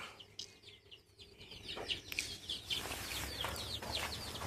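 Hens cluck and chirp while grazing on a small farm, several birds calling in short, scattered bursts that grow busier toward the end over a low outdoor background hum; no one speaks.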